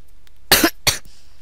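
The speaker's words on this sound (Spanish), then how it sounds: "tenía que toser" Two sharp coughs from one person in quick succession, close to the microphone, followed by a faint short throat sound in a quiet room.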